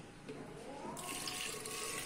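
Water pours steadily onto wheat grains in a grinding machine while making traditional Pakistani village starch, a continuous gushing flow like a running tap, fairly quiet and alone.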